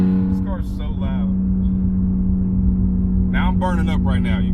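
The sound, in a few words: ESS twin screw supercharged BMW E46 330i engine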